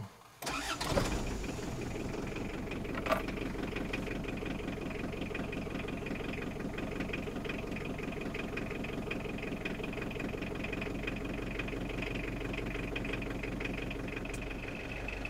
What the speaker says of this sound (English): Okay, this is Isuzu diesel cold start